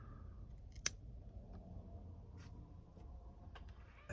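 A single crisp snip of scissors cutting a branch on a Portulacaria afra bonsai, close and quiet against a low background hum, followed by faint small handling clicks.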